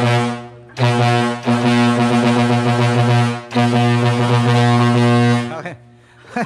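Jet Inoue Bighorn air horn on a wing van truck blasting in several long, loud, close bursts with short gaps between them, followed by a brief trailing sound at the end.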